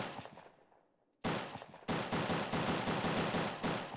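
A semi-automatic Bile Binty gun fires in the video game ANEURISM IV: one loud shot fades out, then after a short pause comes a rapid, evenly spaced string of loud, close gunshots.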